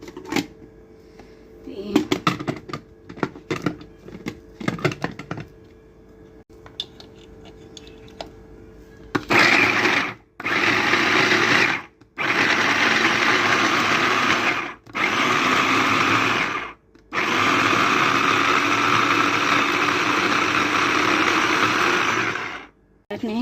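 An electric food chopper runs in a home kitchen, roaring loudly in several long bursts with brief pauses between them, after some lighter clattering and handling sounds.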